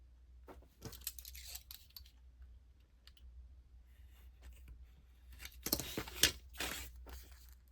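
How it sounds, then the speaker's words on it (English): Scissors snip through paper while making a zine, a few soft cuts early on and a louder cluster of sharp clicks and crinkles near the end, close and quiet with no talking. "So I'm going to cut here."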